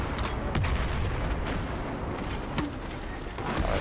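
Loud bursts of video game gunfire crack over a constant rumbling battle noise, with several sharp shots standing out at irregular moments.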